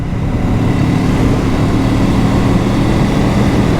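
Kawasaki Z 650 2023 motorcycle with a 180-degree crank parallel twin, a steady loud low engine drone holding constant throughout, with no talking.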